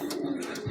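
Racing pigeons coo softly at the loft during a derby fun race, a short low murmur close by with no talk.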